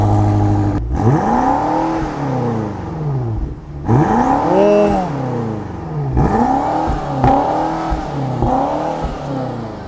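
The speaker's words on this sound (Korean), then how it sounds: "그러면 배기음부터 한번 듣고 가볼게요" A BMW X6 M engine revs repeatedly in loud, rising bursts, with short pauses between pulls and a deep exhaust roar close by.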